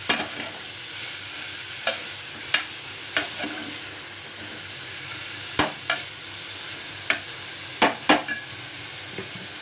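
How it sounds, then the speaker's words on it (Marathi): Onion and capsicum stirred and fried in a pan with paneer, a continuous moderate sizzle broken by sharp clacks of the spoon against the pan every second or so, with no voices. "त्याच्याबरोबरच कांदा आणि शिमला मिरची टाकून घेऊया छान असं भाजून घ्यायचं थोडंसं"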